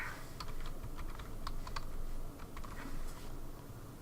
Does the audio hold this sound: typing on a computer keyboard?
yes